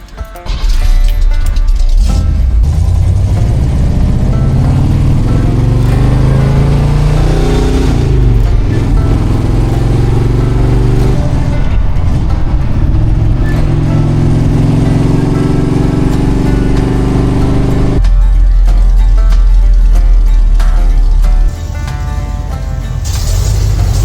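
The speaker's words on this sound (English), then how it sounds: "I'm going to go on a little test drive real quick, make sure everything feels good and brakes are working and such." The engine of a Jeep CJ-7 drives loudly and up close on a test drive after shop repairs. It revs up and settles in repeated gear-change sweeps, with a continuous rumble throughout.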